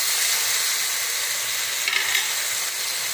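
Onion and tomato masala sautéing in a pan, a steady close hiss and sizzle with a couple of faint stirring scrapes.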